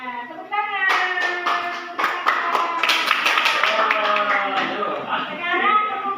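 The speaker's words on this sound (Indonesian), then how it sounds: "Mesin, ya, tepuk tangan." Classroom of students clapping hands together in a mathematics lesson, a dense burst of overlapping claps that starts after a brief moment and continues steadily to the end, with voices talking underneath.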